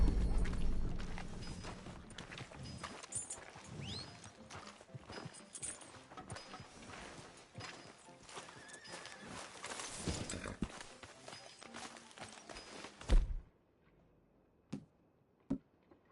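Horse hooves clip-clopping in Red Dead Redemption 2, a steady walking gait under a busy game soundscape that cuts off near the end, leaving a few isolated clicks in quiet.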